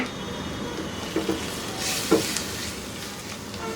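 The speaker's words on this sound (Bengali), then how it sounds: "ভেজে নিব যাতে হলুদের কাঁচা গন্ধটা চলে যায়" Sliced onion fries in a pan with turmeric and salt, a steady close sizzle running throughout, broken by a couple of brief stirring clatters, while a person talks over it.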